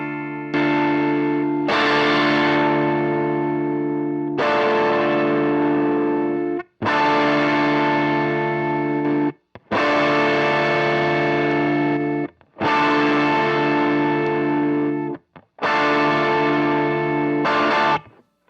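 An electric guitar played through a JHS Kilt V2 overdrive/fuzz pedal strikes a chord six times while the gain settings are switched. Each chord is loud and rings out until a brief silence before the next strike, and no one talks.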